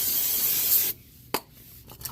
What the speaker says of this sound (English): Spray a little brake clean on there.